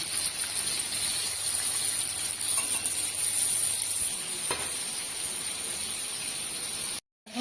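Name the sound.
fish frying in oil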